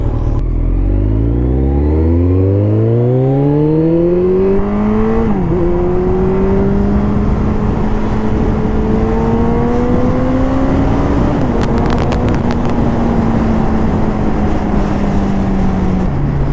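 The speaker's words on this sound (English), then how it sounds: "The motorcycle is actually running in lower power mode, but still it gave a very nice and sweet feel that I reached some speed." A Kawasaki Ninja ZX-14R hyperbike accelerates hard in a low-power riding mode, its engine note climbing steeply through several gears with brief dips at each shift, then holding a loud, steady high-revving drone with wind rush.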